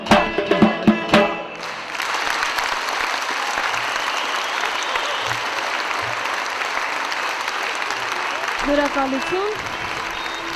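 Sustained audience applause fills a concert hall at an anniversary celebration for an Armenian poet-singer, following brief sung phrases, with a voice giving thanks early on and someone speaking over the clapping near the end.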